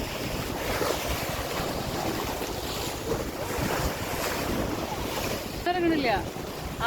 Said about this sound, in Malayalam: കപ്പല് പോയതിന്റെ തിരിയാണോ വന്നോണ്ടിരിക്കുന്നത്